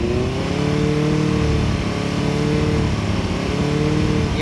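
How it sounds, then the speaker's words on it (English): A used Benelli 600i motorcycle engine held at about 4000 RPM, a loud, steady close-up drone with slight fluctuations in pitch throughout. "Now let us try it 4000 RPM."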